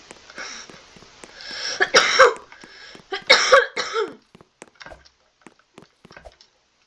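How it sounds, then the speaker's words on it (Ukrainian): Several coughs from one nearby person, a loud cluster in the middle and quieter coughs and throat sounds before and after, followed by faint knocks and clicks. "Трохи покашлю, бо я захворів"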